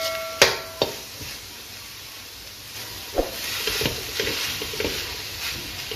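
Spoon stirring and mashing vegetables and spices for tawa pulao on a hot tawa, a few sharp scraping knocks early on, then softer scrapes and a light sizzle throughout, close and moderately loud.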